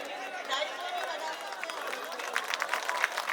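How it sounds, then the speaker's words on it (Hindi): An audience clapping at a mushaira poetry gathering in Burhanpur, a short burst of scattered applause that builds toward the end, with a crowd murmuring and voices nearby. "मैं चाहती हूँ एक बार सारा जितना भी मजमा है ताली बजाकर थोड़ी सी हौसला अफजाई कर दे मेरी"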